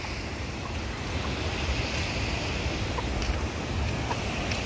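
Water rushing from a burst dam, a continuous loud roar of flowing water with wind buffeting the microphone, steady throughout and heard without talk.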